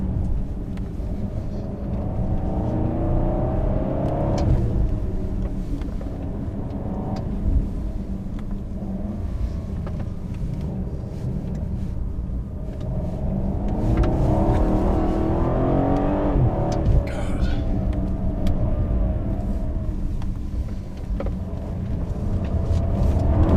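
An Alpina B7 car's engine revs while driving, a deep rumbling drone that swells and rises in pitch twice, heard from inside the cabin with steady road noise and no voices.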